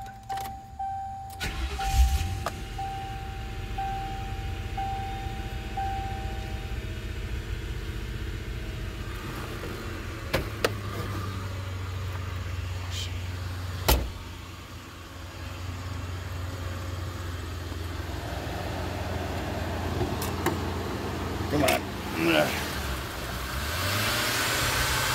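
A 1993 Cougar engine with rotten vacuum lines idles unevenly, its rumble rising and dipping as it surges and bogs, with a few clicks and clunks along the way.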